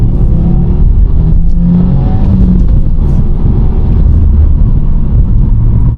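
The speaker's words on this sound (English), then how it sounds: "Let's accelerate a little bit here." A Subaru WRX TS pulls under acceleration, its engine and exhaust giving a steady, loud, continuous drone with no talking over it.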